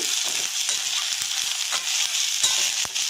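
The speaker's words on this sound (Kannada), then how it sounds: "ಎರಡು ಈರುಳ್ಳಿನ ಉದ್ದುದಕ್ಕೆ ಹೆಚ್ಚಿ ಹಾಕ್ತಾಯಿದ್ದೀನಿ ಚಿಕ್ಕ ಚಿಕ್ಕದು ಎರಡು ಟೊಮೊಟೊ ಹಾಕ್ತಾಯಿದ್ದೀನಿ ಇಷ್ಟನ್ನು ಚೆನ್ನಾಗಿ ಹುರ್ಕೋಬೇಕು" Sliced onions and chopped tomatoes fry in a hot pan, giving a steady close sizzle with a few scraping stirs, and no voices.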